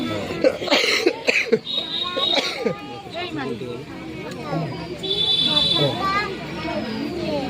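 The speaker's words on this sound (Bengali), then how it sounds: "আমার কাশি উঠে গেছে তোমার ভিডিওতে।" A few sharp coughs break out near the start, mixed in with nearby talking and a murmur of background chatter.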